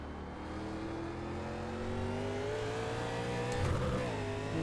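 Race car engines in the NASCAR Legends video game drone steadily at high revs, with rising pitch as one car accelerates and another passes close around the fourth second.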